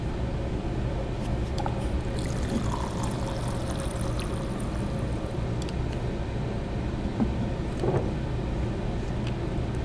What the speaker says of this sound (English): So I got the beans and the water, make coffee.